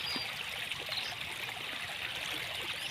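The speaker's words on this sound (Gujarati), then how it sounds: "તો આમાં જો એટલું પાણી જાય છે." Rain-fed water rushes through a village stream channel in a steady, continuous wash, moderately faint and with no voices.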